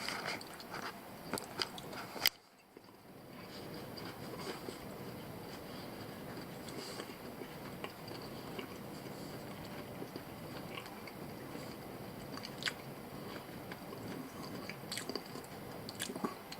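Close, soft chewing of a pork pie with egg, pork and pastry, a steady wet crunch after one sharp bite, continuing alone without talk.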